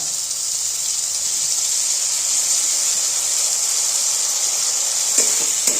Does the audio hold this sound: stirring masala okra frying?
yes